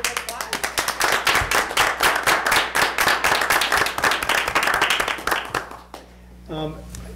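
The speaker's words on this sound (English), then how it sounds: "a round of applause" An audience at a school committee meeting breaks into dense, loud applause after a speech, clapping steadily for several seconds before it fades, followed by a voice starting to speak.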